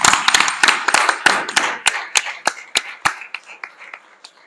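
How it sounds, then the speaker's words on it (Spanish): A small audience at a book presentation claps for a man named Roberto, a brief burst of sharp, close handclaps that thins to a few scattered, slowing claps before fading out. "Un aplauso para Roberto"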